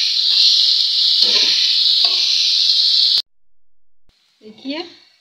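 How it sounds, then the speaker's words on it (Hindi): Three medium onions frying until brown in a home kitchen: a steady, bright sizzle that is close and loud, with stirring scrapes beneath it, cutting off abruptly before a short clatter. "ये 3 प्याज है मीडियम साइज का। इसको थोड़ा सा ब्राउन में फ्राई करना है।"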